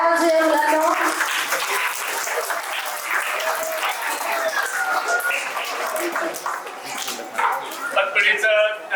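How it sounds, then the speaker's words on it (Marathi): Children clap steadily at a school retirement ceremony for a teacher, with applause filling the whole stretch and voices talking over it. "आपण टाळ्या वाजवूया मुलांनो"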